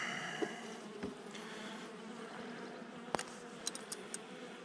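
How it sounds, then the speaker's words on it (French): A bee buzzes near a beehive during hive work, a faint steady drone under a few soft knocks and sharp clicks, with no talking. "Non, c'est une abeille."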